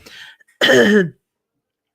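A single harsh cough bursts out close by, short and loud, after a faint breathy sound, followed by silence and a tiny click at the end.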